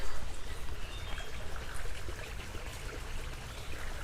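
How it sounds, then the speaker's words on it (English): Water trickles and babbles continuously in a small stream close by, a steady splashing flow without voices. "here's some more water and the trickle of it"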